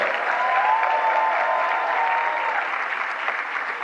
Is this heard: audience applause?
yes